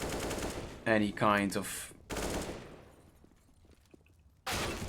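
Rapid gunfire sprays in an esports video game match, with dense bursts of shots near and loud, broken by short gaps, while a commentator talks.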